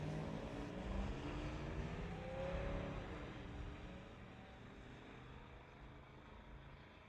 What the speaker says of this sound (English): Racing to the 8th mile here on the Titanium Strip